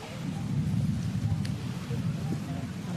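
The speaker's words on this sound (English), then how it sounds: "there was a thunder rumble." Distant thunder rolls as a low, steady rumble through the whole stretch, heard outdoors at the final round of a professional women's golf tournament in Thailand, with no talk over it.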